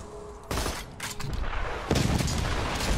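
Gunfire crackles in the video game Borderlands 2, a dense burst of loud shots starting after a brief lull and continuing as a rapid, overlapping volley with several sharp reports.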